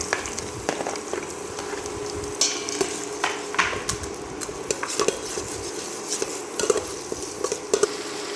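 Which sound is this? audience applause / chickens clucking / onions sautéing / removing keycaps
onions sautéing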